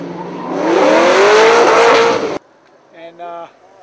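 A Ford Mustang at Road America roars past with rising engine revving for about two seconds, loud and close, then cuts off abruptly, followed by a brief voice.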